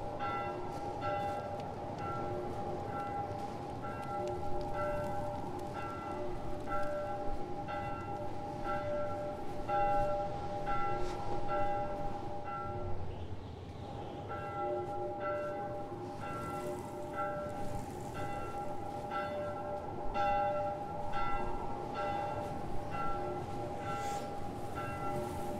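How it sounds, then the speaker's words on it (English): Church bells ring in The Last of Us, struck repeatedly in a steady, resonant pattern of overlapping tones that carry on throughout over a faint ambient background. "Why the bells keep on ringing, man?"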